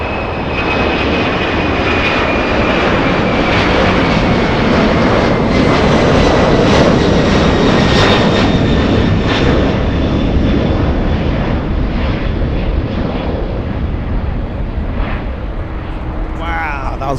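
A Delta airliner taking off at LAX, a powerful continuous engine roar that stays loud and steady throughout, with a voice talking over it.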